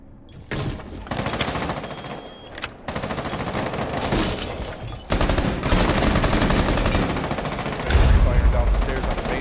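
Gunfire in an esports match of a competitive shooter, with bursts of shots ringing down a lobby stairway. The firing runs in dense, steady volleys across the whole stretch and gets louder and heavier toward the end.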